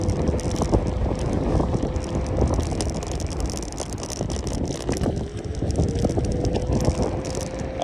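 A Zondoo ZO 01 electric bike rides in single turbo mode in gear 1, giving a steady motor whine that climbs slightly in pitch beneath heavy rushing wind noise, with no talking.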